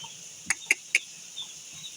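A few quick, short clucks from a chicken, three sharp calls in a row, fairly faint against a quiet background.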